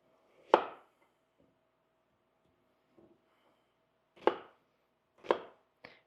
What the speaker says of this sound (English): it's probably about the whole shallot here we'll chop